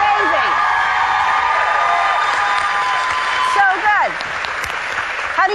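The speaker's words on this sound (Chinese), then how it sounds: "琴艺让台下观众拍手叫好" A talent-show audience applauds a six-year-old girl's piano performance on an American stage, a dense, loud, sustained clapping with some cheering and whoops, under a voice speaking throughout.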